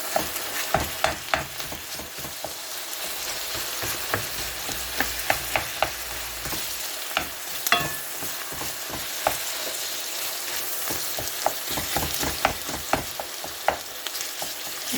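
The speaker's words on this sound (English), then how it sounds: "I'm gonna put in my minced meat." Low-fat 2% minced meat fries in a pan with a steady close sizzle, broken by repeated sharp clicks and scrapes as a utensil stirs the mince through the 15 seconds, with no talking.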